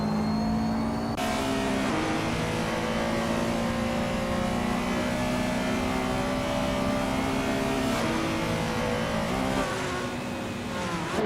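A vintage 1985 Ferrari 288 GT and rival cars race in a video game, engines droning loud and steady throughout with rising and falling revs, no talking over them.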